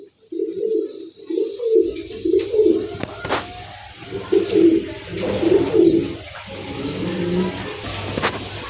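Giribaj high flyer pigeons coo in repeated soft, rolling bursts, close and fairly loud, with a low hum running underneath and a few sharp clicks and knocks.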